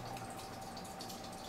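Water running from a tap into a container for boiling, a soft continuous trickle and fill sound at low level with faint dripping texture, no talk.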